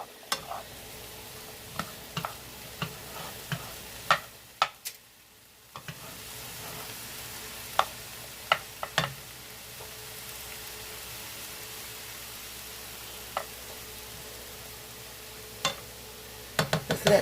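Ground turkey and onions fry in a pan with a soft, steady sizzle and crackle, broken by scattered sharp pops and occasional stirring clicks. The cooking sounds alone, fairly quiet and close.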